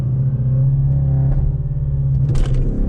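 A 520bhp Audi S7 with a stage 1 tune held at 4,000 RPM before a launch, a loud, steady low engine drone from inside the car, swelling briefly near the end.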